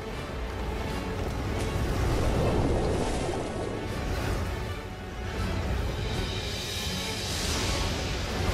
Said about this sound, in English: creating huge tides that race across the planet's surface